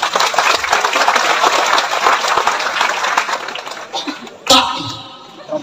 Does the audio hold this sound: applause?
yes